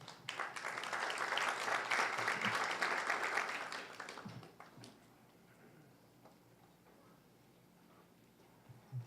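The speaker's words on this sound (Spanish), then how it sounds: "a quien recibimos con un fuerte aplauso" A seminar audience at a legal talk on the adolescent criminal responsibility code claps to welcome a speaker, a few seconds of moderate applause that thins out abruptly, leaving a quiet room with a few scattered soft noises.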